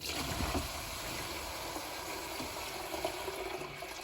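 Water pours into a guppy breeding tub, a continuous close splashing and gushing that stays fairly even throughout.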